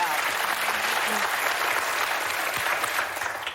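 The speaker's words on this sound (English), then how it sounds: "a lot of women are clapping" A crowd of women claps steadily and loudly throughout, a dense wash of applause with a few raised voices mixed in.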